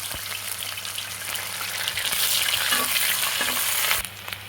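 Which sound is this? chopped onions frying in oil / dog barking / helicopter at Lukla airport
chopped onions frying in oil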